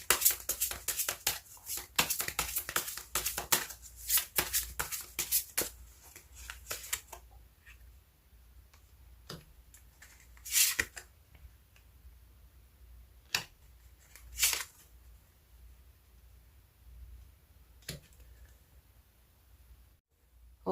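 Tarot cards shuffled close up: a dense run of crisp riffling flicks for about seven seconds, then scattered isolated card snaps and taps over quiet background, with no talking.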